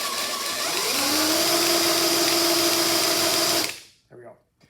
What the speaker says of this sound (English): Make sure your drill's in forwards, don't put it in reverse.